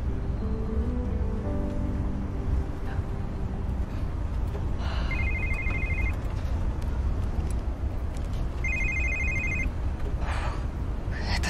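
A phone rings twice outdoors on an evening walk, each ring a short burst of bright electronic trilling over a steady low rumble of background noise, with a pause between, no talk.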